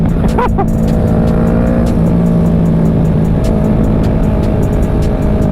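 Riding a Ninja 650 motorcycle gives a loud, steady engine drone mixed with heavy wind rush, continuous and close throughout, with no pauses.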